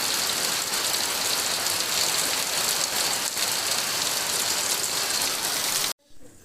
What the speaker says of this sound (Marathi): पावसानं का जोर केला नाही आज भरपूर